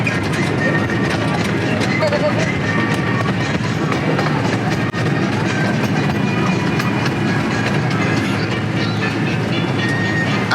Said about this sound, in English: Train time.